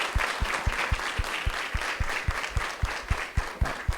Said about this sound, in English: we could just give a round of applause to all the teachers and all the counselors